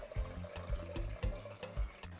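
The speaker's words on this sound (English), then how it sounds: "We just want to squeeze out the excess water from the leaves" Cooked leaves for Ofe Onogbu soup squeezed by hand to press out excess water, giving soft repeated wet squelches and drips in a rough rhythm, close and fairly quiet.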